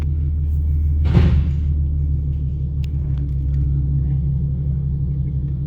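A 2012 Ford Mustang with a 3.7 V6 and Roush mufflers idles with a deep, steady exhaust rumble up close, a brief louder burst of revving near the start, then settles back to a throaty idle.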